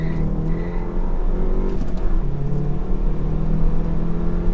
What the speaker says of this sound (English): I can definitely hear the engine wants to breathe quite a bit more as I'm getting up to speed here